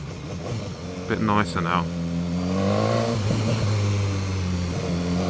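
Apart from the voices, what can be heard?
BMW S1000R motorcycle engine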